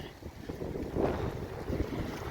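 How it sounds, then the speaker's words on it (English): Gusty wind buffets the microphone outdoors beside a trailer hauling a cheap Suzuki Grand Vitara, a low rumbling roar that swells near the middle and stays fairly quiet overall. "Windy."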